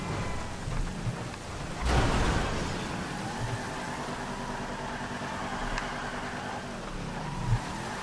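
Rain and thunder in the video game GTA Online, with a steady wash of heavy rain and a sharp crack of thunder followed by a rumbling roll, while a car engine hums underneath and a later rumble builds again.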